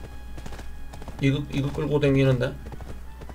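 A horse's hooves clop in steady rhythm in the game Black Desert, faint and close, mostly under someone talking over them.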